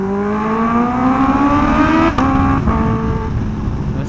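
Heavily modified Kawasaki Ninja H2R supercharged motorcycle engine revs loudly and steadily, pitch climbing across a long pull before a brief break and a second lower surge, close and alone with no talk.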